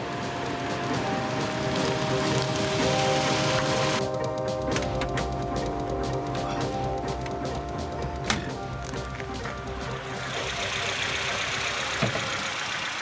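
A 1.5-litre inline four-cylinder BMW M10 turbo racing engine in a BMW 1500 runs steadily with a buzzing, even drone and some sharp mechanical ticks, close and continuous without talk.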